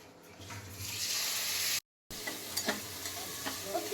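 Steady close sizzling of Maggi noodles and potatoes cooking in a hot kadhai, broken by a brief cut, then continuing with light stirring clatter.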